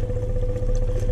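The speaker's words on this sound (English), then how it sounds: "I'm keeping my hand on the throttle just enough to keep it idling" A 2024 Honda Rubicon ATV engine idles steadily at a held throttle while wading through deep water, a continuous near, loud low drone with light clatter and no talk.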